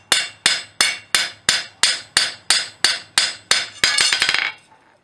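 Light hammer blows planishing a forged fishtail scroll on the anvil: about eleven evenly spaced, ringing metallic strikes, then a quick flurry of lighter taps at the end, close and alone.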